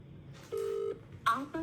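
Telephone keypad tones as a call is dialed: a single steady beep followed by a couple of shorter tones, clear and close with a faint background.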